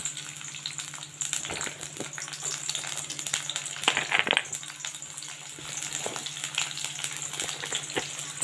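Chopped onion sizzles steadily in hot oil in a kadai, a close, even frying hiss with faint crackles and light stirring clicks, without any voices.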